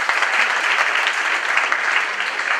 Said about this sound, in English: Can we have a clap for that?